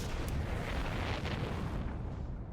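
A massive explosion in the video game Outer Wilds, a deep, sustained rumbling roar that fills the whole stretch before its upper edge cuts off near the end.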